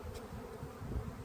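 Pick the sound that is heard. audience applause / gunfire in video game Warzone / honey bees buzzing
honey bees buzzing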